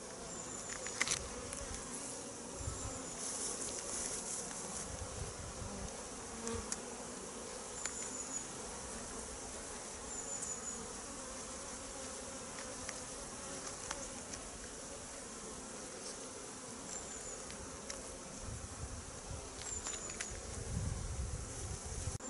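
Honeybees humming around an open beehive being readied for winter, a steady dense drone that never lets up, with scattered louder buzzes from single bees passing near.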